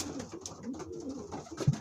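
Pigeons in a loft give soft, low cooing calls close by, several throaty coos overlapping in a slow pulsing rhythm.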